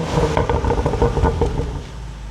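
BMW M235i exhaust revving in sport mode with the resonator still fitted, a close, throaty burst of engine revs with crackling pops that fades toward a steady idle.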